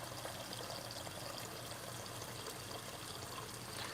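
Cool, clear water pours into a cooking pot in a home kitchen for making sweet tea. It makes a steady, close rushing splash that runs unbroken the whole time, with no talking.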